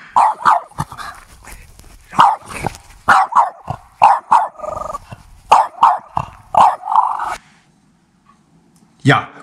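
A dog barks repeatedly in quick, close bursts, sometimes doubled, then falls quiet near the end.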